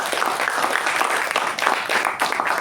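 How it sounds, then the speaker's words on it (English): A Toastmasters meeting audience claps in a steady, dense round of applause that holds for the whole stretch, loud and close, with no break in the clapping. "Let's give a huge round of applause to our table topics master"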